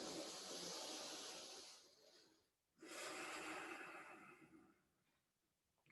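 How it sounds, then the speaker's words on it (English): Two deep breaths drawn in through the nose during a wellbeing breathing exercise, each a long airy inhale of about two seconds, close and clear, separated by a short pause. "you take 3 deep breaths. So in through the nose"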